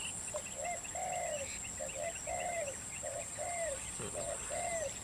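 A white-breasted waterhen (ruak-ruak bird) calls outdoors in a steady, repeated series of hooting notes at moderate distance, over a constant high insect drone.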